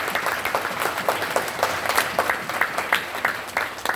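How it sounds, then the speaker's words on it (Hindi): A hall audience at a direct selling seminar at the Radisson Blu claps steadily for four seconds, a dense, even round of applause with no break. "तो जोरदार तालियां उठा के डायरेक्ट सेलिंग के लिए अपन को बजानी है।"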